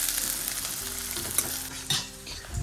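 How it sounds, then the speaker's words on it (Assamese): Onions and green chillies frying in mustard oil for a pork dish, a steady close sizzle with stirring scrapes and small clatters of the pan, no talk. "পিঁয়াজ আৰু জলকীয়াটো মানে ভাজি লৈ লওঁ"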